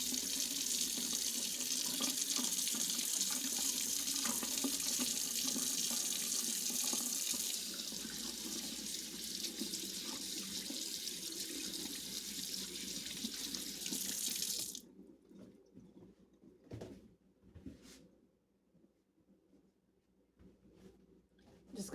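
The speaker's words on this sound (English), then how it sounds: "Let me wash my hands." A kitchen tap runs loudly into a sink while hands are washed, a steady hiss for about fifteen seconds before the water shuts off, followed by faint drips and handling sounds.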